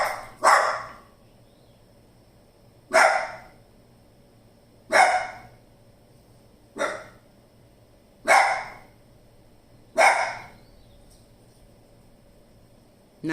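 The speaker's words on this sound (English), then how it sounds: "There's my dog. There she goes." A dog barks alone in single sharp, loud barks spaced a couple of seconds apart, about seven in all, over a faint steady background hum.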